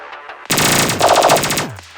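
Rapid burst of sci-fi gunfire in a French audio drama firefight, a loud close string of repeated shots lasting over a second before ringing away, with no voice.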